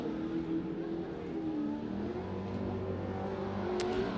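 A Pro Lite off-road race truck engine screams at high revs near the red line, a sustained, strained whine that shifts slightly in pitch, heard from some distance and continuous throughout.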